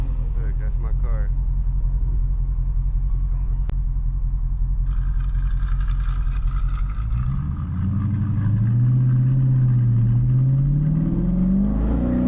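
A Chrysler 300 with a modified exhaust rumbles steadily at idle, then its engine rises in pitch as it revs up toward the end, loud and close, with a person talking over it.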